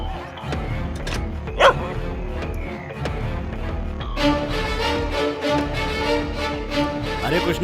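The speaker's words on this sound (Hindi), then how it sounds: "बगल वाला कुत्ता भौंक रहा है" A dog barks amid a busy, layered background of noise and clatter, the barking fairly sharp but partly buried in the surrounding din.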